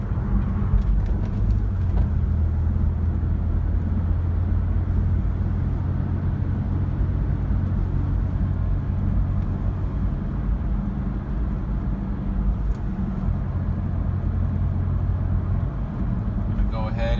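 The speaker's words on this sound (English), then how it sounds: "Go ahead and do a hard acceleration up this hill." Toyota 4Runner under hard acceleration up a hill, a steady low engine drone and road rumble heard from inside the cabin, constant and fairly loud throughout with little change in pitch.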